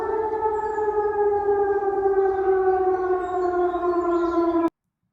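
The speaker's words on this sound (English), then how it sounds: "Why is there a siren going off in the background right here?" A civil defense siren in Denmark wails steadily with layered harmonic tones, slowly falling in pitch, then cuts off abruptly near the end.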